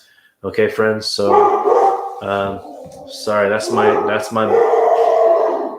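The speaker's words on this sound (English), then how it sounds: "my dog making some noise" A pet dog barks and yips in short bursts with whimpering sounds, close by and mixed in with someone talking over it.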